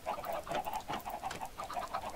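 Several Minecraft chickens cluck in quick, overlapping bursts, close and fairly soft, with no talking.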